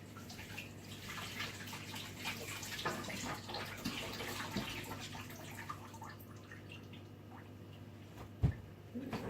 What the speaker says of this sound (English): Just give my hands a little rinse